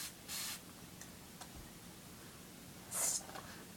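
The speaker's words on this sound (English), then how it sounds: "Okay, now I'm going to spray it again." Two short hissing bursts of perfume sprayed from a bottle close by, one early and one near the end, over a quiet background with a few faint clicks.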